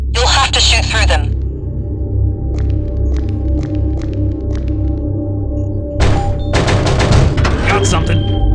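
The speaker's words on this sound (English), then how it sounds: "You'll have to shoot through them." Gunfire from the Dead Space 2 video game cracks out in loud, dense bursts at the start and again near the end, with sparse quieter clicks and thuds in between.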